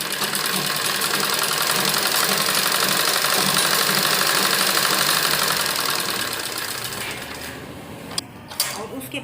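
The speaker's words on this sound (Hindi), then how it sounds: "इसके बाद हमें इस तरह से इसको करते हुए एक दबी सिलाई लगाएंगे इसके ऊपर।" A sewing machine stitching a seam on a blouse, heard close as a loud, steady mechanical whir with rapid needle chatter that winds down and stops, followed by a couple of clicks.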